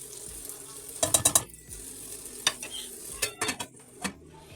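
Gluten-free noodles with chicken and vegetables being stirred in a pan: a quick run of close scraping, clattering strokes, then scattered single knocks over a soft sizzle, no talking.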